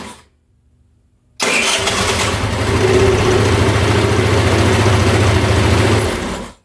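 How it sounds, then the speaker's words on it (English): A GY6 scooter engine cranks on its electric starter after a short silence, catches at once and settles into a loud, steady, close idle that runs for several seconds before cutting off. "I think the electric starter issue is officially fixed."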